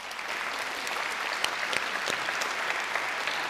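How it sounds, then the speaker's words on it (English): Church congregation applauding during a Lutheran service, a steady, full round of clapping from many hands with scattered sharper claps, continuous throughout and no talking. "together with a round of applause."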